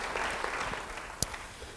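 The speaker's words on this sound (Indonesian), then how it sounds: "Yang percaya beri tepuk tangan bagi Dia." A church congregation keeps up soft, continuous applause, faint and distant, with one sharper clap standing out briefly.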